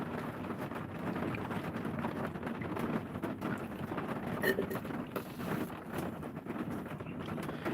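Heavy rain falling outdoors, a dense, constant hiss and patter with gusty wind noise on the microphone and scattered louder drops throughout.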